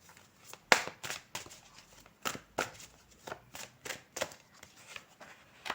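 Oracle cards being shuffled and drawn by hand, a quick run of crisp papery flicks and slaps at close range, with short pauses between bursts.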